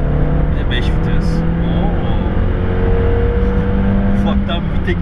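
VW Passat B5.5 with a five-speed gearbox and about 65,000 km, its turbocharged engine droning steadily under load from inside the cabin while a voice talks over it.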